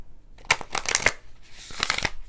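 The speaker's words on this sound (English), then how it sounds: "This is such a hard deck to shuffle." Close, crisp riffling bursts of a deck of large, stiff cards being shuffled, two quick rounds separated by a brief pause.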